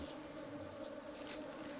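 Honey bees buzz steadily around beekeeping hives at a honeybee farm, a faint continuous close drone with no talk over it.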